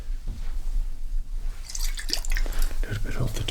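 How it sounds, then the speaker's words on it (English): Hair tonic is applied during a barbershop razor shave, heard as close, soft wet dripping and dabbing sounds, and a quiet voice speaks over them. "A little bit of the tonic water on there."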